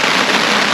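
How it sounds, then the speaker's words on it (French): Rain falls steadily at a woodland campsite, a brief, dense and loud hiss of drops with no other sound standing out. "Là, il pleut."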